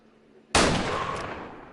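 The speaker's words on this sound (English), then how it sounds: "Line up a shot and miss." A single hunting rifle shot in Way of the Hunter: one loud, sharp crack after a brief near-silent lull, followed by a long decaying echo tail.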